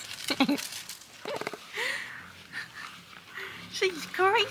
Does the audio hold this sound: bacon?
no